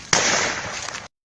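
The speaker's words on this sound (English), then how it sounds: "So the gunshot you are hearing is the terrorists firing at them." A sharp burst of gunfire from terrorist attackers shooting at people, a dense crackling volley that starts abruptly and holds steady for about a second before cutting off.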